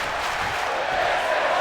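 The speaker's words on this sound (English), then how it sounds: "Crowd loving this match." A wrestling arena audience roars in a continuous wash of cheering and noise during a match, loud and close for a brief moment.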